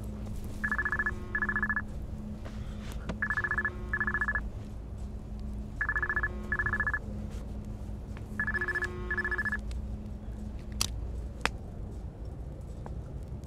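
A cell phone ringing at night, its electronic ringtone sounding in four repeated double bursts at moderate volume over a low steady hum, with no talk.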